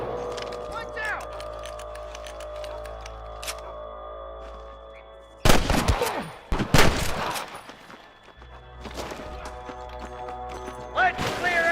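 Gunfire in the Red Dead Redemption video game, with bursts of loud, close shots clustered in the middle that stand out against quieter game ambience and faint tonal music on either side.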